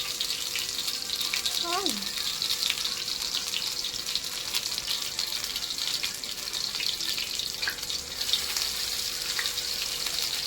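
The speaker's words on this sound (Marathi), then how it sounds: "एक एक वडा बनवून टाकून देऊ." Vada frying in hot oil, a steady, loud, close sizzle throughout, with a brief whistle-like tone early on and faint background voices.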